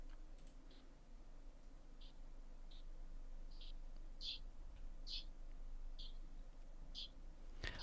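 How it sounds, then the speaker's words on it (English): Birds chirp faintly outdoors through open doors, short high chirps repeating every second or so over a steady background hum. "I can hear your birds there in the background"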